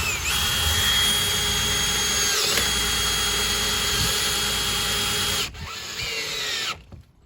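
Power drill driving screws through Simpson ICF rim joist hangers on a Nudura house build, a close, loud, sustained whir with brief pitch dips, stopping near the end with a short final burst before cutting out.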